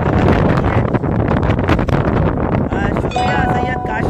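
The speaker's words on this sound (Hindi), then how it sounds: "बारिश की ज़रूर बौछारें शुरू हो गई हैं और बहुत तेज़ हवा चल रही है।" Strong gusty wind roars and buffets the microphone in a loud, dense rush during a sudden weather change in Uttar Pradesh, with rain showers falling and voices and faint tones breaking through near the end.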